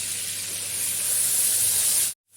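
Garlic frying in hot oil in a karahi for tandoori chicken, a loud, steady, bright sizzle that holds evenly and then cuts off abruptly near the end.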